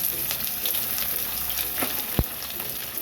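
Chopped onions frying with mutton in a pan for a Bengali mutton jhol, a steady close sizzle throughout with a brief stir or scrape near the end.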